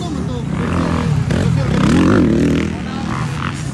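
Motocross motorcycles racing in a ladies' final heat at a Talakag competition, a steady loud engine roar with a swelling rev near the middle, while spectators talk excitedly throughout.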